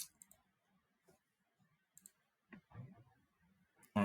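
Several sharp, quiet mouse clicks on a computer during software work, scattered unevenly across a few seconds with small gaps, ending in a louder click, and no voices.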